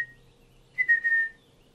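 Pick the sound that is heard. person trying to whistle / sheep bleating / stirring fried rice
person trying to whistle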